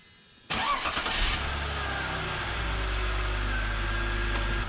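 A BMW E46 wagon drift car's engine starts after a moment of quiet, then runs at a steady, fairly loud idle with a low continuous rumble throughout.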